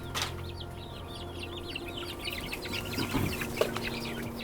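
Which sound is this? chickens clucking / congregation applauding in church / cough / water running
chickens clucking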